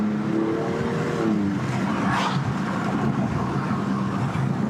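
Alfa Romeo Giulia Quadrifoglio engine running with its exhaust valves held open, a steady loud droning growl with a rising tonal sweep early on, heard continuously from the cabin with the window down.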